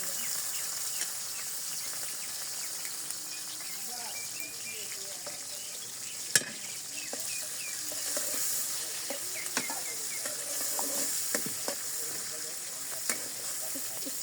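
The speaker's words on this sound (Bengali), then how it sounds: "তেল দিয়ে দিয়ে এখন আমি পাতাকপি ভাজি করবো। পেঁয়াজ দিয়ে দিলাম" Onion and chili sizzling in hot oil in a village kitchen as a cabbage fry begins, a steady bright frying hiss with scattered pops and stirring clicks, close and continuous for the whole stretch, with soft talk underneath.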